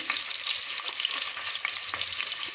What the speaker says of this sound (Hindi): अब इसमें मैं शामिल कर रही हूँ 2 दरमियाने साइज़ के टमाटर स्लाइसिस में काटे हैं।